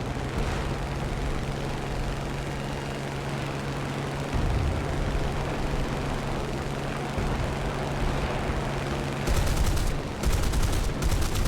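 Aircraft machine guns firing in the War Thunder arcade air battle, a Spitfire F. Mk XVI clipped-wing fighter, dense rattling bursts over a constant engine drone, with a harsher burst near the end.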